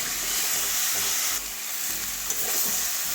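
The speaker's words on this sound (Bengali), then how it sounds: "এবারে ভেজে রাখা আলুটাও দিয়ে দেবো সবগুলো একসঙ্গে কটিয়ে নেব দুই এক মিনিট ভালো করে কটিয়ে নেবো" Potatoes stir-fried with mushroom and soybean curry, a steady close sizzle and hiss with the scrape and clatter of stirring in the pan, no talk.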